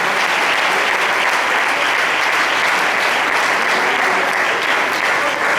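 Loud, sustained applause from a church congregation, steady clapping filling the whole stretch without a break.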